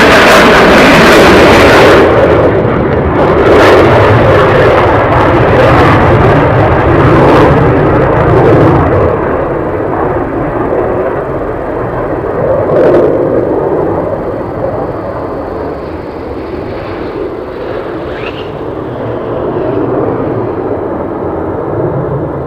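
A fighter jet on a low approach at RAF Lakenheath, a loud, broad engine roar that slowly fades to a distant rumble as it passes away, with no talking.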